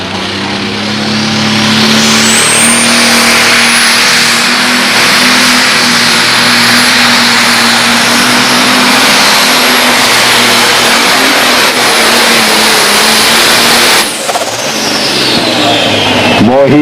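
A modified pulling tractor engine roars at full power during a tractor pull at the Page Valley Fair, a loud, sustained, steady howl lasting many seconds before easing off near the end.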